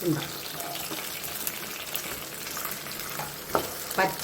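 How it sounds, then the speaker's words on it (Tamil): Onion, garlic and fresh green turkey berries sauté in hot oil with mustard seeds in a pan for a traditional kulambu, giving a steady close sizzle with occasional stirring clinks and scrapes. "இப்போது கடுகு பொரிஞ்சோடனே வெங்காயம் பூண்டு போட்டு நல்லா வதக்கணும்."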